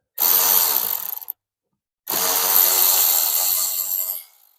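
Two loud bursts of a Milwaukee power tool spinning a socket to remove bumper fasteners on a 2025 GM full-size SUV, a short whir, a pause, then a longer whine that winds down.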